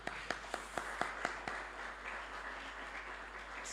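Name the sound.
church congregation applause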